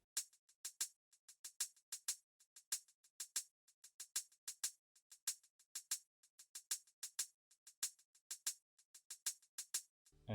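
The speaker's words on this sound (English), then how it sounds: "I started off with a hi-hat, like an acoustic sounding hi-hat" Crisp, quiet acoustic-style hi-hat hits tick in a busy repeating beat pattern, with varied accents and short bright taps, alone with no other instruments.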